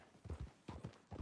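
Horse hooves clip-clop in a PS4 video game, a steady walking rhythm of soft thuds in paired beats, fairly close and moderately quiet.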